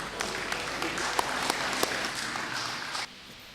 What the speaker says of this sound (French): Pendant qu'il s'élève, nous acclamons le Seigneur.